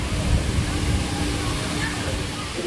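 A waterfall inside Longshan Temple in Taipei gives a steady, broad rushing wash of falling water, continuous and fairly close, with people talking quietly under it.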